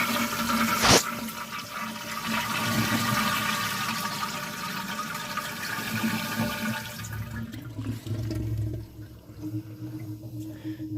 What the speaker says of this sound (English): Let's flush it.